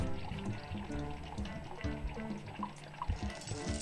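Molten metal is poured in a sword-making simulator game, a continuous liquid pouring and trickling sound with a steady wash of noise and faint background tones throughout.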